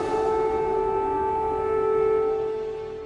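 Civil defense air raid siren sounding in Kyiv as a steady, sustained wail with strong tonal pitch, holding level and swelling slightly before easing, with no voices over it.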